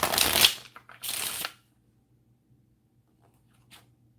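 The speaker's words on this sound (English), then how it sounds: "shuffled it backwards here" Tarot cards being shuffled by hand, two quick riffling bursts close up, followed by near silence with a faint tap.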